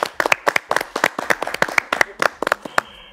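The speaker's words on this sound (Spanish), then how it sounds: "Familia, un aplauso." A small audience claps by hand, sharp distinct claps in a quick, slightly uneven rhythm, close and fairly loud, tapering off at the end.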